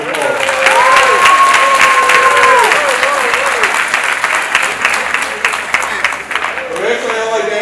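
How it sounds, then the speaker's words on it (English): Graduation ceremony audience applauding steadily and fairly loudly for several seconds, with a tonal whine over the clapping that fades near the end. "so let's give them a round of applause."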